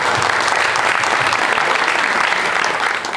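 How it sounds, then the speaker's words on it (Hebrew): An audience at a tech talk applauds the speakers with dense, steady clapping. It is close and loud and runs unbroken for the whole stretch. "אני רוצה כפיים למרצים שלנו"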